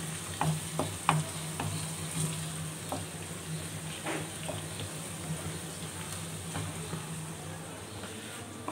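Onions frying and browning in a pan, a soft continuous sizzle with occasional clicks and scrapes of stirring over a faint low hum, close but fairly quiet.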